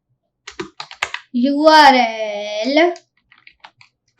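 Quick bursts of clicking on a computer keyboard, close and crisp, broken by a stretch of a voice talking in the middle.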